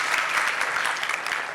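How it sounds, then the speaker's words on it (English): A live audience at a data center and cloud panel applauds the panelists, dense steady clapping filling the room from start to finish at an even level. "Can I get a round of applause for our panelists"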